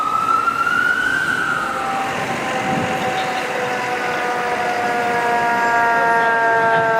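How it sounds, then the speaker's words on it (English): An ambulance siren wails on a city road, its steady rising and falling tones carrying loud and continuous over traffic rumble for the whole stretch, with no voices over it. "Yeah, that's just an ambulance."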